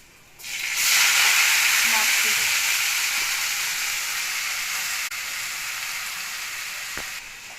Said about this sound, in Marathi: आपण हे बघा स्वच्छ धुतलेली भाजी याच्यात टाकून घेऊया